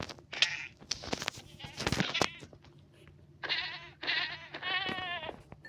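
A goat in a block-building video game bleats several times in quick wavering calls, loud and close, amid clicking and rustling game sounds.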